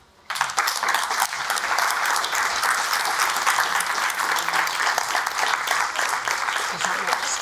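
Conference audience applauding after a survivor's speech, clapping starting abruptly and holding steady as a loud, dense round to the end.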